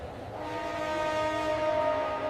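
An arriving train at an old railway station sounds a sustained horn over a low rumbling rumble of rolling wagons, fairly loud and steady throughout.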